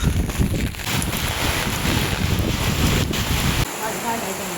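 Strong wind from Cyclone Ditwah in Jaffna buffets and roars steadily across the microphone, with a rushing, watery flood backdrop and a slight easing near the end.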